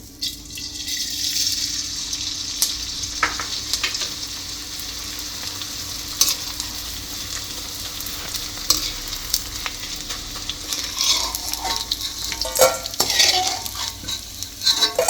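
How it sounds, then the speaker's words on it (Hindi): Edible gum (gond) frying in a kadai, with a bright, crackling sizzle and clicking, scraping stirring throughout, plus occasional louder pops and no talking. "यानी गोंद को फ्राई करना है।"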